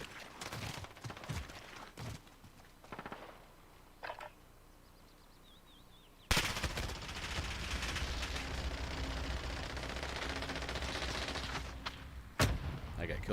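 Video game gunfire with the trigger held down, a dense continuous burst of shots that gets louder partway through, with quieter scattered shots and noise before it.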